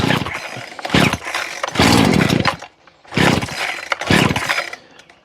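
A Husqvarna 38cc two-stroke X-Torq chainsaw with a 14-inch bar starts and revs in loud, close bursts, roaring up and dropping back to a brief idle several times.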